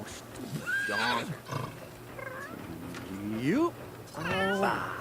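Horse neighing in The Sims 3 game, a rising whinny around the middle and another loud neigh near the end, with cat meows mixed in and someone talking over parts of it.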